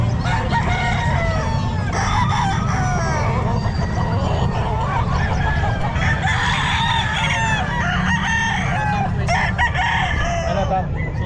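Sweater gamefowl roosters crow repeatedly amid clucking fowl at a busy pet market, several calls overlapping at mid distance over constant crowd chatter and nearby talk.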